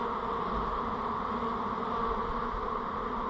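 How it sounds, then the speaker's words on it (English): Honey bees from a swarm buzz around a double-deep hive, a dense, steady, close drone with no pauses and no voices. "Some nice bees though."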